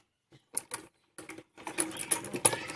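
A sewing machine stitches cloth for a kurti in short clattering bursts separated by pauses, then runs in a longer, busier stretch of rapid ticking, close by and fairly quiet.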